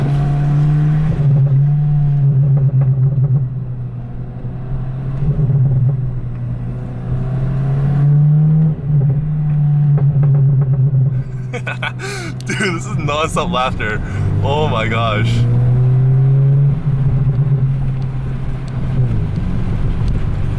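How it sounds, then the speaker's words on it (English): A straight-piped VW GTI MK7.5 with a burble tune drones while driving, its turbo and exhaust burbling and crackling under loud talk and laughter inside the car. "Turbo noise. And also burble noise."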